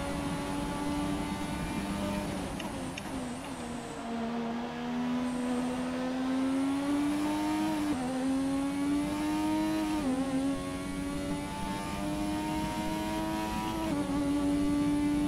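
An F1 car from the F1 2017 game revs hard near 10k RPM in cockpit view at Monza's Parabolica, a loud, steady engine drone with rising and falling pitch sweeps as gears shift, continuous for the whole stretch.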